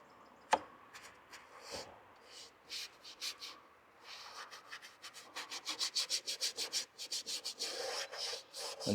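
A brush scrubs purple paint onto a painting of a cranberry bog barn in quick scratchy strokes, close and soft, starting sparse and then turning into a fast, steady rhythm.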